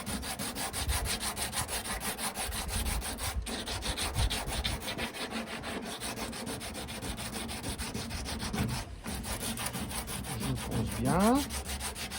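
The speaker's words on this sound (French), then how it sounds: "je ponce." The surface of a car roof box is sanded by hand with steady, rhythmic rasping strokes, close and continuous throughout, with no talk.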